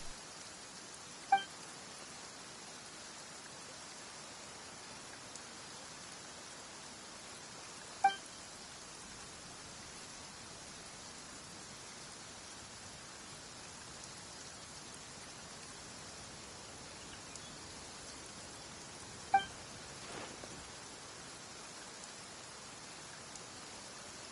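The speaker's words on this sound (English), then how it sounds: "Why is it raining all of a sudden?" Steady rainfall in Genshin Impact, a soft even hiss that lasts throughout, with a few faint isolated clicks over the wash and no voices.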